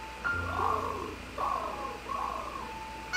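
A cartoon cat meows in a parody of the Cats musical poster, three drawn-out, wavering meows spaced about a second apart, clear and fairly close over a faint background.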